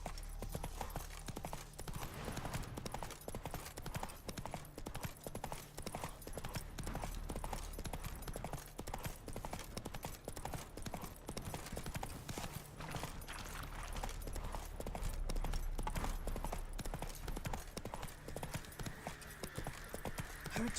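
Roach, a horse in The Witcher 3, gallops with steady, rapid clip-clop hoofbeats that run the whole stretch, close and prominent over a low ambient bed, with a brief whinny-like tone near the end.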